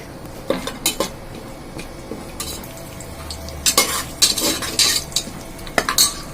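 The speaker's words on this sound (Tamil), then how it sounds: "பச்சை மிளகாய் போட்டு வதக்கிட்டு" Whole spices, mint, curry leaves and green chilies sautéing in a pan for vegetable pulao, a low sizzle under repeated sharp scrapes and clinks of a metal spoon against the pan, no speech.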